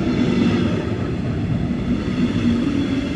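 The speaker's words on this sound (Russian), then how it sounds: "Да, подъезжает наш поезд." A steady low rumble of a train arriving at Biberach, Germany, continuous and fairly loud throughout, with a faint squeal above the drone.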